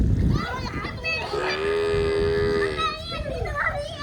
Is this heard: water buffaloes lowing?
yes